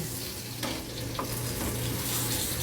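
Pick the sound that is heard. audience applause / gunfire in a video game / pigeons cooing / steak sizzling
steak sizzling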